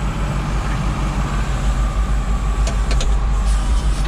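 A Caterpillar 613C paddle wheel scraper crawls along in low gear, giving a loud, steady, deep engine drone with a constant low rumble and a few faint high clicks near the end.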